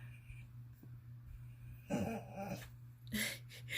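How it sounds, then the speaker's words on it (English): A dog nearby growls low and whimpers, with soft breathy sounds and a couple of sharper yips toward the end, heard in an otherwise quiet room. "you can hear a dog"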